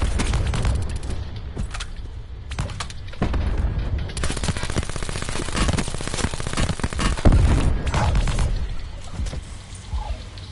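Automatic gunfire in a Call of Duty Black Ops 4 Blackout battle royale match: dense, near bursts of shots rattle almost without pause, with a few louder booming reports standing out among the volleys.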